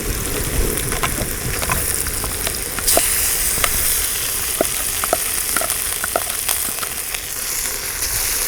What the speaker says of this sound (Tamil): இப்போ இஞ்சி பூண்டு பேஸ்ட் ஆட் பண்ணுறோம்.